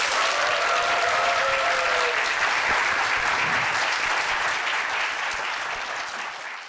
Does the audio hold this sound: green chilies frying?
no